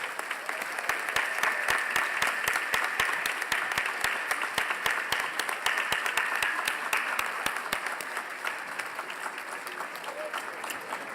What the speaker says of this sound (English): invite all of the administrators, classroom teachers, and school board members to stand and receive a round of applause